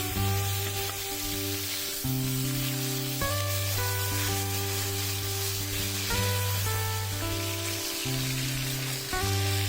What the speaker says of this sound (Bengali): কড়াইতে সর্ষের তেল দিয়ে মাছগুলো সব ভেজে নেব।